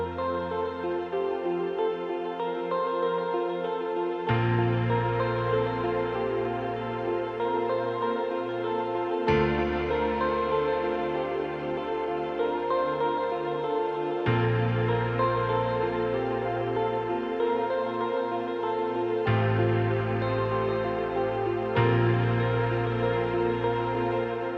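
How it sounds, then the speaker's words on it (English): Synth pad chords move through a progression in steady blocks of several seconds, the filters gradually opening toward the end as a pumping sidechain-style pulse comes in, with no voices. "It's going to kind of open the filters of the pads and bring in this sidechain type of sound."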